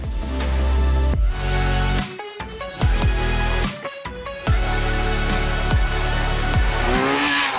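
A 2024 Kawasaki Z900 with a 948cc inline-four rides on the road, revving up through several gears with sharp shifts and brief throttle cuts, loud and close, engine note climbing and dropping repeatedly.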